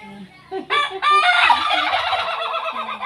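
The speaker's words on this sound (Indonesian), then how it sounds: "Ayam ribut." Chickens cluck and a rooster crows loudly nearby, several birds calling over one another in a busy, continuous burst.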